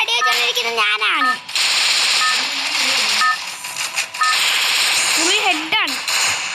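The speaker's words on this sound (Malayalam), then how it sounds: "ചേട്ടനെ വെടിവെച്ചോണ്ടിരിക്കുന്നത് ഞാനാണ്." Rapid gunfire bursts crackle in a multiplayer shooting video game, sharp repeated shots and electronic tones under near, excited talk from players.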